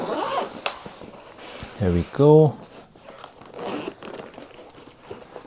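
A zipper on a portable car kit case is pulled open in a couple of quick, close rasping strokes, surrounded by handling sounds, with someone talking briefly.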